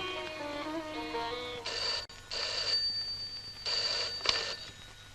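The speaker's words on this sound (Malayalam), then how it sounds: "ഞാനൊന്ന് ഫോൺ ചെയ്ത് രമയ്ക്കായിരിക്കും." A telephone rings indoors in a Malayalam comedy film scene, sounding in two pairs of bursts separated by short pauses, clear and moderately loud, with faint background music underneath.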